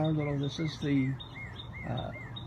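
Soft bird chirps and tweets outdoors in a backyard with bird feeders and a mourning dove, repeated high calls in the background while a voice talks over the first second.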